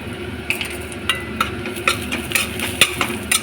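Cumin, turmeric and chilli powder frying in a pan for a Bengali doi katla fish curry, with a soft steady sizzle beneath repeated sharp scraping strokes of a spatula stirring at an irregular pace.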